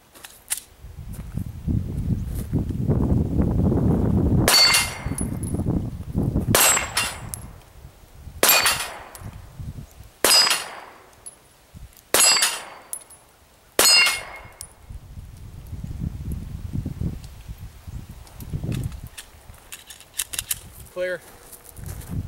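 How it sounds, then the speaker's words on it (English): A Smith & Wesson M&P 9C pistol fired at steel plates from 10 yards: six loud, sharp shots spaced about two seconds apart, each followed by a brief metallic ring, with someone talking before and after the string. "I'm just going to shoot it at 10 yards"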